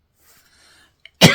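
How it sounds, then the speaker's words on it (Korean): A single short, sharp cough breaks a near-silent moment, preceded by faint breathing. "추운 겨울이 되다 보니까 기침도 나오네요"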